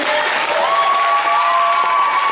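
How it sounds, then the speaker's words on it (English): Loud, steady applause from a convention crowd for a cosplay guest, sustained clapping close by with a faint tonal whistle running underneath. "Give another applause if you want to see him as Mustang next year."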